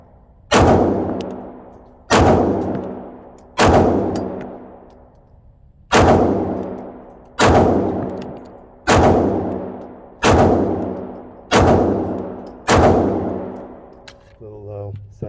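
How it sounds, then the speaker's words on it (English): A Walther PDP pistol fired at a shooting range, eight loud sharp shots spaced about one to two seconds apart, each with a ringing decay, close to the shooter. "Walther PDP, first shots."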